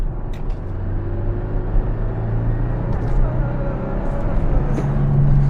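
A 2026 Toyota Tacoma TRD Off-Road with a manual gearbox drives along, its engine and road noise forming a steady low rumble with a faint rising tone, and someone talks over it.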